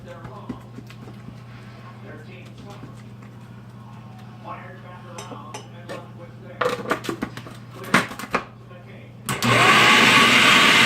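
Blender motor blending berries into a whip: talking and clattering handling noises come first, then the motor starts near the end as a loud, steady, close whir.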